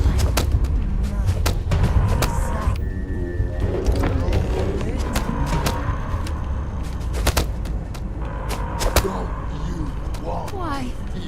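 Gunfire in the sci-fi game Starfield, sharp loud cracks and bursts scattered among clattering action sounds, with a voice talking over the fighting.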